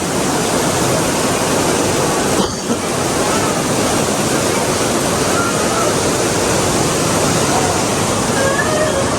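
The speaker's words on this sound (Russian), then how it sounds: "Дело в том, что очень сильный дождь." Very heavy rain pours down during a typhoon on the Antalya coast in Turkey, a dense, steady roar of downpour with wind, loud and continuous throughout.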